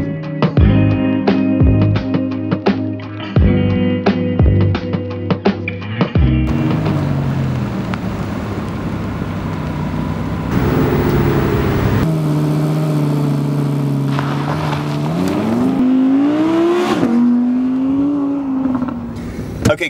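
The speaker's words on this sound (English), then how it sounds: "so we just did the launch control" Audi R8 in Bahrain launching hard with launch control: the engine holds high revs with crackling bursts, then bellows up through rising, loud, close pulls with brief dips at gear changes.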